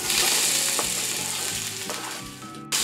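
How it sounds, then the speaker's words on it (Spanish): Thinly sliced onion frying in about a quarter cup of olive oil, a loud, close, continuous sizzle with occasional soft stirring clatters and a sharp knock at the very end. "Inmediatamente después voy a poner cebolla que rebané muy finamente."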